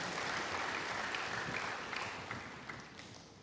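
Church congregation applauding during an Indonesian sermon, a faint, steady wash of clapping that thins out toward the end with a few scattered claps.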